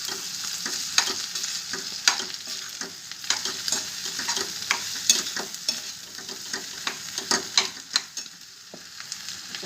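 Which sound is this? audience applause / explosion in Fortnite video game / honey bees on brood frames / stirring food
stirring food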